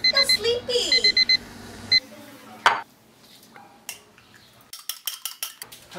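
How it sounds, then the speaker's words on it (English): A 7 a.m. alarm clock rings in short repeated electronic beeps, loud over a faint background, then stops and is followed by clinking dishes and cutlery. "can you please turn off the alarm because I'm still sleepy"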